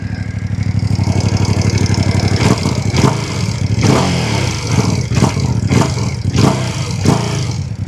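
A warm Ducati Panigale V2 engine fires up and idles with a lumpy, throbbing beat, broken by several sharp throttle blips that rise and fall, close and loud with no talking.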